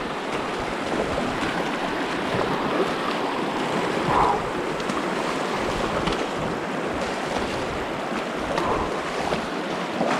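Water rushes and burbles continuously, a steady broad wash of flowing creek sound with some wind buffeting, no voices, during a trail race near Crown King, Arizona.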